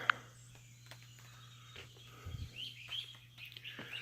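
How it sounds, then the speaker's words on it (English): Faint, sparse bird chirps sound at a distance over a quiet outdoor background with a low steady hum, a few brief high calls scattered through. "Paul, we got birds here."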